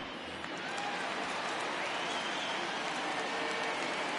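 Home crowd in a baseball video game roaring steadily at the start of the game, a dense, continuous wash of cheering that holds at an even level throughout.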